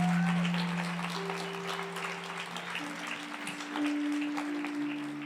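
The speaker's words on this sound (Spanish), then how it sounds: "Vamos a darle un aplauso al Señor" Church congregation applause fills the space, a steady wash of clapping with some sustained tones underneath, fairly loud throughout and slightly swelling near the end.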